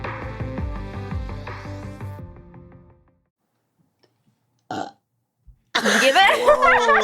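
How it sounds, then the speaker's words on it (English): A single burp comes after a stretch of music that fades into near silence, followed by brief sounds and then lively voices talking close by. "I burped to the right."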